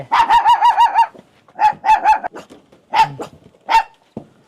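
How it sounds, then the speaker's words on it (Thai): Chickens cluck in quick repeated bursts while dogs bark nearby in a rural Thai village, the calls arriving in short loud clusters separated by brief pauses. "โอ้ ไก่"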